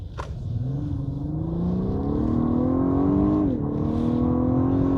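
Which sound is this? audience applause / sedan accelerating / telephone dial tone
sedan accelerating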